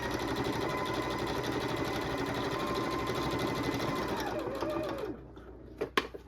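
A sewing machine runs steadily, stitching a half-inch seam on a pillow with a fast, even mechanical hum. It stops after about five seconds, followed by a few small clicks and handling noises.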